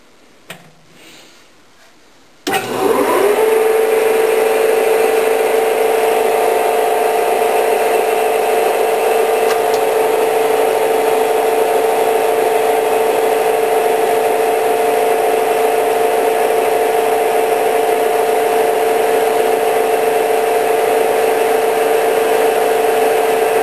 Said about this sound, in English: we've done is chucked a Sharpie marker into the lathe, and we're just going to quickly mark the area of the piston that we want to remove